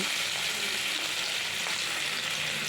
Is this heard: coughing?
no